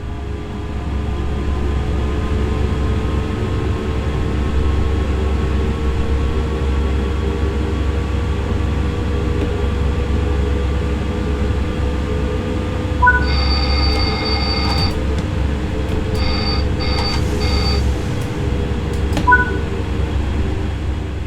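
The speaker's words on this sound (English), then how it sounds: "Accelerate the train now and exceed the speed limit" Train accelerating in Train Sim World 5 on a Dutch line with the ATB safety system, a steady low rumbling drone with rising tonal hum, punctuated midway by repeated electronic beeping alarm tones in the cab.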